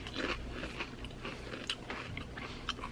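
Close, crisp bites and crunching chews on Doritos Tangy Tamarind tortilla chips, a quick run of irregular dry cracks and mouth sounds for a few seconds with no talking.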